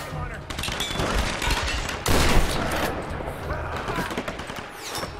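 Shotgun blasts and other gunfire in the Tomb Raider video game, loud rapid shots in bursts with one heavy blast midway, over game noise.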